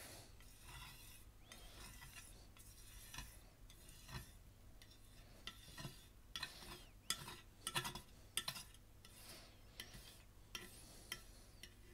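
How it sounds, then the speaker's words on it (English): Palette knife scraping leftover oil paint off a painting palette, a series of faint, quiet scrapes and light clicks in an irregular rhythm, with no voices. "Now I'm going to scrape off any last little excess that I can."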